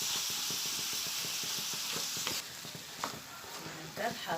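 A large batch of food sizzles steadily in a pan while being stirred, a constant bright hiss layered with rhythmic scraping and stirring strokes, and a few soft clunks near the end.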